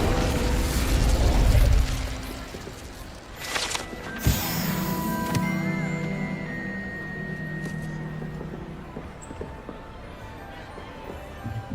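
Incendio fire spell cast in Hogwarts Legacy, a loud burst and whooshing flare followed by sharp pops and crackling as the fire dies away over game ambience.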